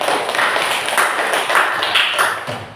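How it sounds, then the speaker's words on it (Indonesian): Audience at an Islamic school presentation clapping hands together, a steady dense patter of many claps lasting the whole moment, fairly loud and close with no talk over it. "Kasih tepuk tangan buat"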